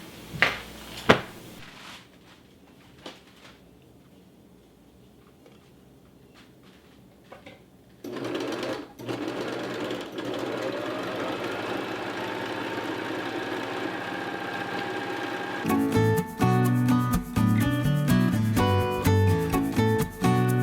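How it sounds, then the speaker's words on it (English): A serger sewing machine runs steadily while overlocking fabric edges for homemade reusable cloth towels, a close, continuous whirring hum that starts after a quiet stretch of handling clicks and later sits under music. "So I'm gonna go on the other side and serge my edges."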